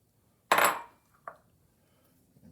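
Green grapes dropped into a big bowl of shrimp and crab pasta salad land with one loud, close clattering rattle, followed a moment later by a single softer knock, then near silence.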